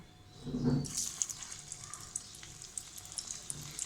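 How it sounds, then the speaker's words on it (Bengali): Meat piyaju fritters hit hot oil, a soft thump followed by a steady, gentle sizzle with scattered fine pops and crackles continuing quietly. "এখন গরম তেলে ভেজে নেব।"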